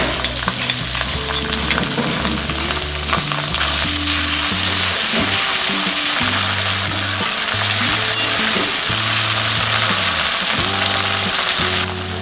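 Onions with ginger garlic paste frying and being stirred in a pan for ragda chaat, a steady close sizzle with repeated rhythmic scraping strokes, no talking.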